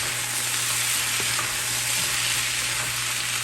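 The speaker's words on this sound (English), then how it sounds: "I'm going to add the tomatoes." Tomatoes sizzle and fry in a hot pan for tallarín saltado, a steady close crackling hiss with faint stirring clicks and a low hum underneath.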